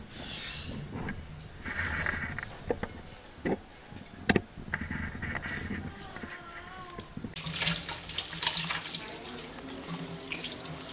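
Tap water runs steadily into a sink while raw meat is washed, with splashing, handling clatter and a few sharp knocks close by. A voice is faintly audible in the background.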